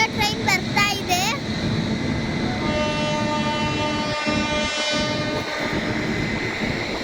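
On a Bangalore–Yediyur route, a train rolls into a station with a loud, sustained rumble and clatter, a long horn blast sounding over it, while voices chatter on the platform.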